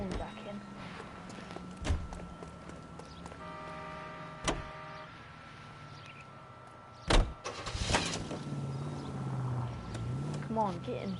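A car in L.A. Noire idles and pulls away, with door thumps and clunks spaced through the scene, engine hum underneath, and characters talking over it.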